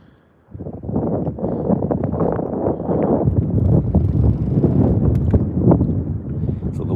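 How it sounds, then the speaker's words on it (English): Wind on a lake during bass fishing buffets the microphone in a low, rumbling, gusty rush that starts abruptly and continues unbroken. "Wind isn't as bad right now."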